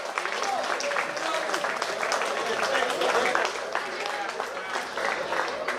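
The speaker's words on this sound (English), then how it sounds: "so please give them a round of applause" An outdoor crowd at a steelpan finals in Skinner Park, San Fernando, Trinidad, applauds the secondary school steelpan players, a steady wash of clapping mixed with cheering and voices.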